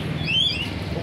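Caged birds give a few short high chirps over a steady low background rumble, the calls brief and moderately close.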